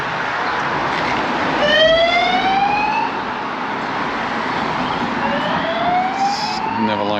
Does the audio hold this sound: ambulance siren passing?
yes